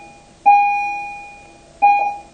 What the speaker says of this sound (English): let's wait for the bells.